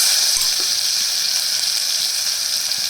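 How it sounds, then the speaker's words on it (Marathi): Finely ground green chilli and curry leaf paste dropped into hot oil with cumin for a dal tempering, sizzling loudly and steadily as a bright, continuous hiss up close, with no talking. "हिरवी मिरची कढीपत्ता मिक्सरला बारीक वाटून घेतला आहे तो टाकून घ्यायचा आहे"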